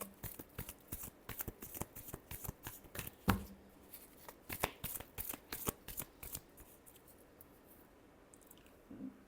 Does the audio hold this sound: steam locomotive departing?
no